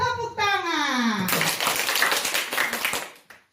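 Students in a school classroom clap their hands on a teacher's command, a burst of scattered group clapping following a spoken instruction, fading out after a few seconds.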